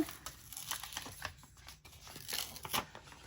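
Backing paper being peeled off chipboard pieces for a 6x6 bee-themed mini album, a close crinkly tearing and crackling with several short bursts, quiet and alone.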